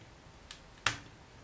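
A blade cuts a section from a black and white polymer clay flower cane, making a faint tick followed by a sharper, close click as it presses down onto the work surface.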